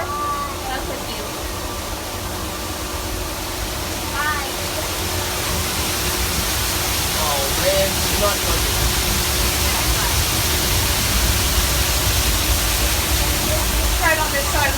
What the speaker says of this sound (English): Going down the waterfall?